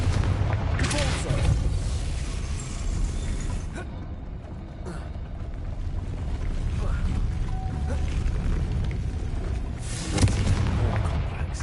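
The Confringo and Convulso spells in the Hogwarts Legacy video game go off as booming explosions and crackling bursts, loud and close, striking in repeated blasts with brief lulls between them.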